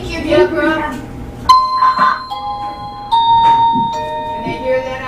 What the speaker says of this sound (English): 5 minutes till I'm gonna ring the doorbell.